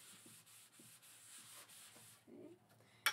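A thin layer of wax is rubbed by hand onto a painted surface for a craft wreath. The faint, close rubbing strokes come in a soft back-and-forth rhythm, then quieten before a brief sharp scuff at the end.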